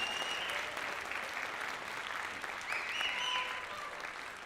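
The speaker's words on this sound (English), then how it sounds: "Give them a round of applause." Audience at a school winter band concert applauds the Wind Symphony helpers, with a steady spread of many hands clapping, moderately distant in a hall, with some faint voices and whistles mixed in.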